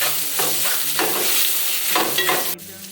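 A spoon stirs a salted masala of coriander powder and Himalayan pink salt in a hot pan for boti gongura. Loud, close scraping strokes run over a steady sizzle, then ease off near the end.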